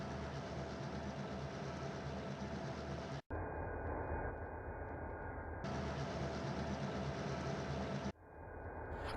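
A freight train engine idles in a rail yard, a steady low rumble with a mechanical drone that cuts off abruptly twice, the second time fading back in, with no talk.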